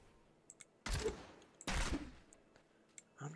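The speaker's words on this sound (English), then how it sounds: "I'm just like shooting random crap." Gunfire in Diablo III, two loud broadband bursts of rapid shots close up, each lasting under a second, with scattered faint clicks and small game sounds in between.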